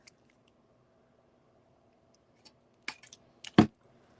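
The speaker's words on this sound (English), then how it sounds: "Then I'm going to trim the 20 gauge." Wire cutters trim 20 gauge craft wire on a coiled wire pendant, giving a few sharp metallic snips and clicks near the end after a long quiet stretch, with one louder final cut.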